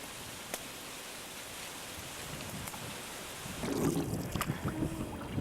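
A canoe glides along a river with a faint, steady wash of water at first, then louder splashing and sloshing in the last couple of seconds; no one speaks.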